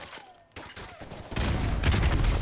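Gunfire in the Call of Duty: Modern Warfare Remastered video game, a burst of rapid shots swelling into dense, sustained loud firing over the last second, with brief quieter moments early on.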